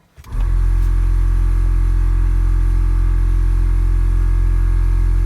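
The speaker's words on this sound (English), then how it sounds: "you should hear the air compressor kick on" A Kleinn onboard air compressor in a Jeep Wrangler JL starts up after a brief quiet moment. It rises quickly to a loud, steady motor drone with a strong low hum and continues without a break.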